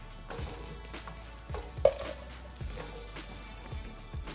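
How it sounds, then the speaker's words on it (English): Runner beans sizzle in a nice hot griddle pan, a steady close frying hiss with small crackles and a few soft knocks as they are moved around, no talking. "I'm going to add them to the nice hot griddle pan and griddle them until they're nicely blistered."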